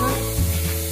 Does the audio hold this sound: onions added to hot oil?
yes